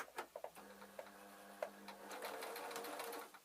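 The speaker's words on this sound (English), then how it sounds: "3 stitches on the sewing machine is quite difficult" A sewing machine puts a few stitches into a suit pocket, a soft close burst of quick mechanical ticks and a brief whirr after a few faint handling clicks.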